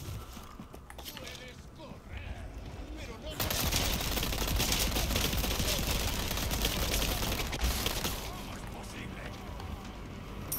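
Gunfire in the Resident Evil video game, a dense sustained burst of rapid shots that swells loud midway and eases off, with a voice faintly present underneath.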